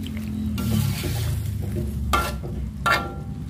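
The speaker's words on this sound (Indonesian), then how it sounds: "Aduk lagi." Tofu and tempeh bacem being stirred in a pan with a little added water, a continuous sizzle broken by a few sharp scraping strokes of the utensil, close up.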